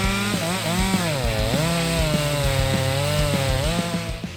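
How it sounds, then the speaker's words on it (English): A compact handheld chainsaw cuts wood while building a wooden house, its engine whining in a steady, close drone that wavers in pitch as the chain bites. "the compact chainsaw is still extremely effective in cutting wood as needed."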